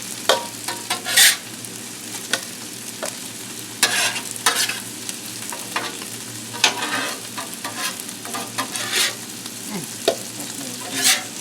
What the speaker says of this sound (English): We are scooping this rice off now.